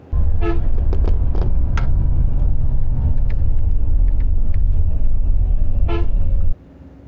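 A bus on National Highway 16 from Kolkata to Puri rolls along with a steady, loud engine and road rumble, with several short horn toots from passing traffic at the start and near the end before the noise cuts off.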